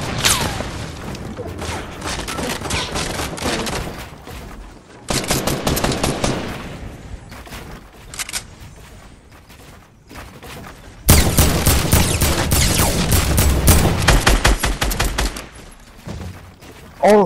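Automatic gunfire in Fortnite aimed at a rock comes in long loud rapid bursts separated by brief pauses, with a voice occasionally talking underneath.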